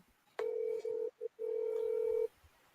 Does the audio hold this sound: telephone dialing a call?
yes